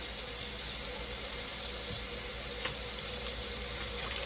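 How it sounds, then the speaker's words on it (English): Hot water runs steadily from a kitchen tap into a sink, a continuous broadband hiss and splash with no talk over it. "I'm going to run some hot water."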